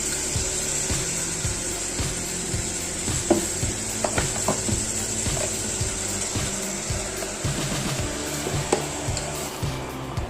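Masala-coated chicken sautés in a pressure cooker pan for cooker chicken biriyani, giving a continuous close sizzle broken by repeated rhythmic stirring scrapes.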